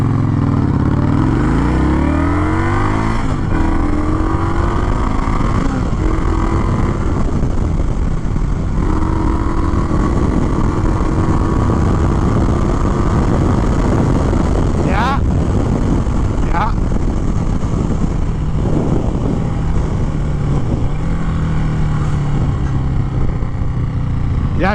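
A 2021 Indian Scout Bobber motorcycle pulls away hard from a stop, its loud, close engine note rising through the gears in a steady, continuous roar, with some wind rush and a person talking briefly over it.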